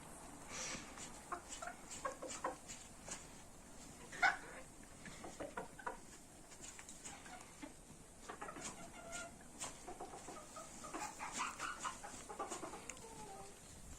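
Black Mottled Bantam Cochin chickens and a rooster cluck and murmur steadily at a distance in a coop, with an occasional louder squawk over a noisy outdoor background.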